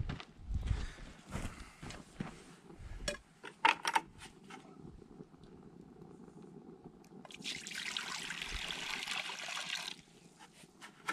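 Water poured onto a hot brick rocket stove gives a few seconds of steady hissing rush, following earlier clatter and knocks of fuel pieces being dropped in.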